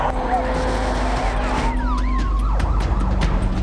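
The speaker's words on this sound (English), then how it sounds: "Sirens lit up Bondi." Wailing police sirens sweep up and down over a heavy rumble of traffic at Bondi, with several sirens overlapping at moderate distance.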